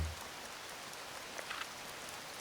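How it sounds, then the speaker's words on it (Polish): Steady rain falls through the game H1Z1 as a continuous soft hiss with faint droplet patter, carrying on without anyone speaking. "Generalnie ten deszcz jest po naszej stronie."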